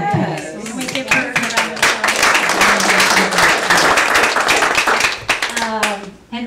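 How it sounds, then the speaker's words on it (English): An audience claps for a filmmaker at a garden film screening and discussion, dense and steady applause at close range that tapers off near the end, with voices mixed in. "round of applause?"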